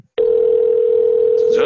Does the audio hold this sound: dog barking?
no